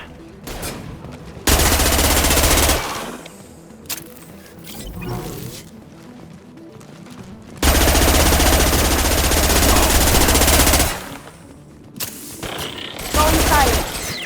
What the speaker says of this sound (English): Try shooting the bad guys.